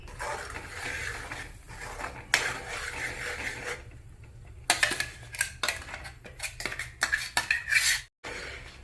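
Onion tomato masala is mixed in a pan, a metal spoon scraping and clinking against the pan in irregular bursts, with short pauses between strokes.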